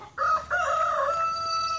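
A rooster crows loudly and close by in a backyard chicken flock, one long drawn-out cock-a-doodle-doo with a brief break near the start, no talking over it.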